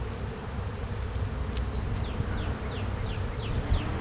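Honeybees buzzing close around an opened hive being smoked, a dense steady hum with individual bees whining past in quick rising and falling sweeps.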